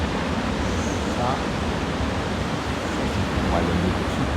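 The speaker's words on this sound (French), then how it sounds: "il y a des putains de vagues" Big waves breaking at the Nazaré surf spot during a surf championship, a steady broadband roar of surf and wind close to the microphone, continuous throughout with faint voices in the background.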